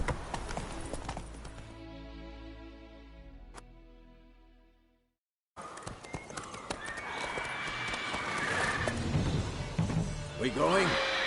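Roach the horse's hooves clip-clopping in The Witcher 3, with a neigh, a brief dropout to silence, then louder, busier galloping hooves mixed with game effects.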